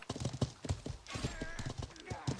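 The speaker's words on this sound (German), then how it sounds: "Was machen wir mit den Pferden?" Horses walking in the medieval video game Life is Feudal, their hooves clip-clopping in a steady, close rhythm while people talk over them.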